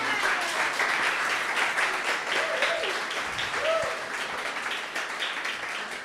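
Audience applause after a poetry reading at a panel event keeps up a dense, even wash of clapping for the whole stretch, with a faint voice briefly underneath.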